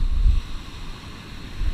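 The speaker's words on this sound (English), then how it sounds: "It is a little windy, so the waves are a little bit kicking." Wind buffets a microphone on a beach as waves roll in, producing a steady low rumble that swells at the start and at the end.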